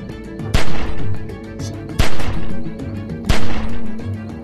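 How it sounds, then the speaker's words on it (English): Loud gunfire in the Telltale Walking Dead video game: three heavy, sharp shots roughly 1.4 seconds apart, each followed by a rolling, reverberant boom, over a low steady game-music drone. "As soon as you start shooting"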